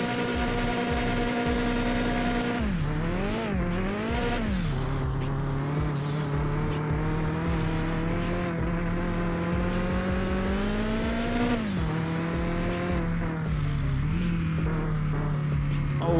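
A BMW E36 race car in Mon Bazou drives on a track, its engine droning steadily with pitch rising and falling through gear changes and throttle lifts, tires squealing faintly at times, loud and close throughout.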